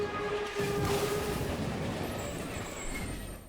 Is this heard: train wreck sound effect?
yes